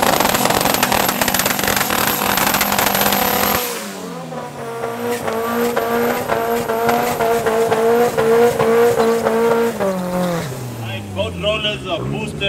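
Drag racing cars launching hard at Midvaal Raceway, loud engines screaming and revving through gear changes with tire squeal, close and dominating, then rising and falling in pitch as they pull away.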